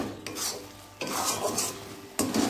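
A paste of almond, coconut, mustard and green chilli is stirred in a pan, giving three raspy scraping strokes with soft sizzling between them, close and fairly quiet, with no voices.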